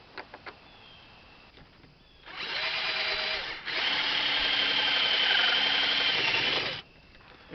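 Power drill driving a machine screw tight: a brief whirring run, a short pause, then a longer steady buzzing burst that stops abruptly, close and loud, with a few faint clicks before and after.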